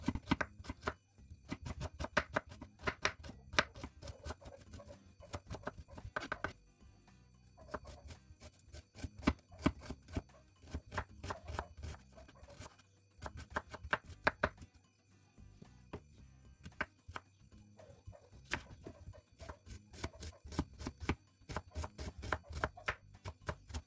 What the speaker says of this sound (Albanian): Kemi marrë 2 qep të vogla, do të mundohemi të grim sa me imë të mundemi.